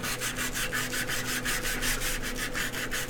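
Sandpaper scrubbing filler on a handle during a glass construct build: fast, even back-and-forth rasping strokes, loud and close, continuous throughout with no talking.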